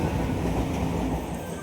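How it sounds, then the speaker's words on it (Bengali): Commuter train on the Sealdah line pulling out of a station: a loud, close, continuous rumble of wheels and carriages that eases slightly toward the end. "প্রথম ট্রেন চলে গেল"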